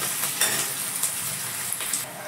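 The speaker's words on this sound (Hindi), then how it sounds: "और इनको बिल्कुल हाई फ्लेम पे भूनेंगे।" Chowmein ingredients frying on a high flame give a soft, continuous hiss dotted with light clicks and stirring scrapes, fairly quiet and with no voices.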